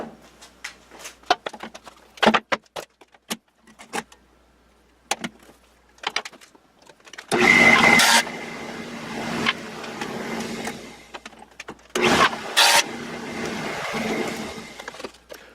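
A dado blade makes a test cut through wood in a woodworking shop. Two harsh, whirring bursts of cutting noise rise over a scatter of sharp clicks and handling knocks.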